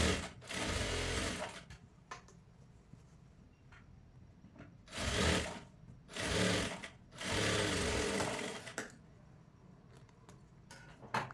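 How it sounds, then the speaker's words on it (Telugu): A sewing machine runs a double stitch along a kids' jumpsuit seam in several separate bursts, each lasting one to two seconds, with quiet pauses between the runs and no talking. "ఇలా కిస్తా జాయింట్ చేసుకున్న తర్వాత డబల్ స్టిచ్ వేసుకుంటున్నాను"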